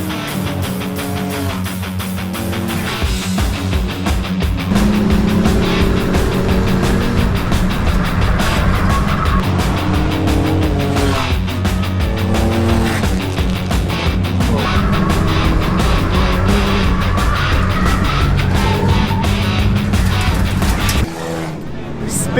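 Race cars tearing around a wet dirt track at a racing event, a continuous loud roar of engines with rising and falling revs and passing cars, voices heard under the noise.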